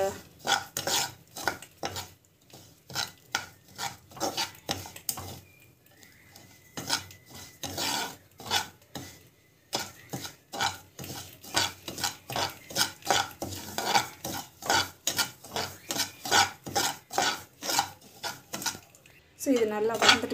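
Semolina and lentils dry-roast in a pan under steady, rhythmic stirring, with dozens of close scraping, rasping strokes in quick succession. There is a short pause midway, and a brief voice comes in at the very end.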